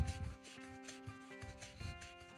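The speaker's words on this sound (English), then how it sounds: "Simply hold the guard in place and rub over the fret" Soft, close rubbing as 800 grit micro mesh is worked over a guitar fret, with repeated short strokes that are faint and scratchy, and no voice.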